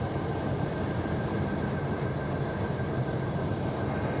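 A 2003 Hummer H2 engine with a throttle communication fault idles at a steady, faint rumble, a low continuous drone with a thin whine on top and no voices.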